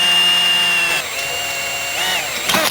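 Power drill with a 1/4 inch bit boring holes in a rooftop tent ladder, a steady high whine that dips and rises twice before a final rough burst as the bit cuts through, near and loud with no talk.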